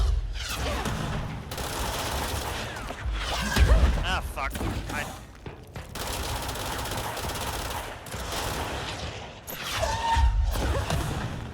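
In the video game Control, gunfire and explosive blasts come in heavy bursts, with whooshes and thuds as an enemy fires a rocket. The action is loud and chaotic, and a voice talks over parts of it.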